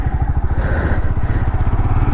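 A motorcycle engine throbs loud and close with a rapid pulsing beat as the rider slows into a turn, the rumble steady and unbroken with no talk.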